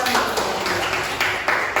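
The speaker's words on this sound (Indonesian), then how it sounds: "Beri tepuk tangan yang meriah." Steady clapping from a group of children in a classroom lesson, a dense even patter of hands that continues throughout without any talking.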